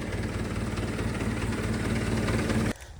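A tractor engine idles nearby on a sugarcane farm with a steady, loud, low throb that cuts off sharply just before the end.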